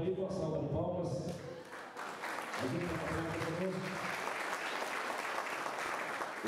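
Audience applause at a Panathlon sports memory ceremony in Brazil's Vale do Paraíba region, loud and sustained clapping from a crowd. A voice speaks over the start before the clapping fills the rest.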